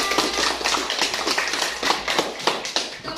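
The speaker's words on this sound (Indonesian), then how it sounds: "Ya, tepuk tangan untuk Desya." Classmates clap for a pupil in a classroom, a short run of quick, uneven hand claps with distinct slaps, close and moderately loud, with no talking over it.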